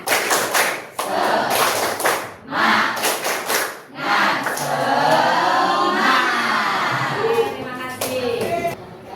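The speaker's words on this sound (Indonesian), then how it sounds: "Kita tepuk semangat dulu ya." A classroom of students standing and doing a rhythmic spirit clap, loud bursts of clapping in patterned groups with pauses, followed by voices cheering and chanting together near the end.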